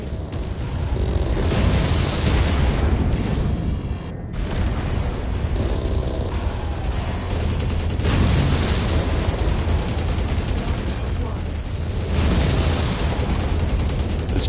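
Missile explosions in the mech combat game MechWarrior 5: Mercenaries: loud, heavy booms that roll into one another, with big blasts roughly every four seconds over a constant rumbling din.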